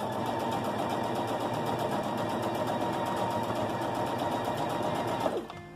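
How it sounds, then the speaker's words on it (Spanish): A sewing machine runs steadily, stitching a patchwork quilt block at a quarter-inch seam, a continuous close mechanical whir that stops abruptly at the end. "ahí sí introduces este nuevo bloquecito que vamos a coser,"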